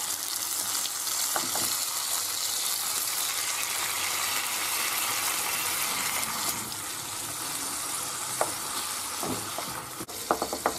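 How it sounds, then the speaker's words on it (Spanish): Tomato sautés in a pan for arroz a la malagueña, giving a constant bright sizzle and frying hiss. A few clinks of stirring break in along the way, with no talking. "Ahora lo que tenemos que echar es el tomate. Y lo rehogamos un poquito también."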